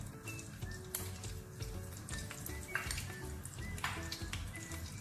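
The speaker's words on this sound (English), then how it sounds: "and then half a teaspoon of jeera, and then fry for a few minutes" Jeera seeds and jeera powder frying in a pan for a Bengali tinda aloo jhaal, a steady close sizzle with faint utensil clinks and stirring scrapes throughout.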